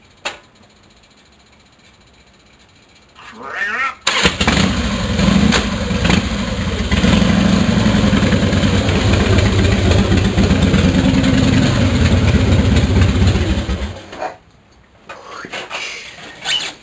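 A Harley-Davidson Fatboy motorcycle cranks over from cold and settles into a loud, rumbling idle nearby for about ten seconds, then cuts off, leaving quiet ambience on either side.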